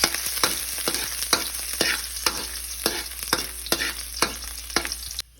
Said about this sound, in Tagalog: Hintayin natin uminit, lagyan ng mantika, tapos isalang ang luya.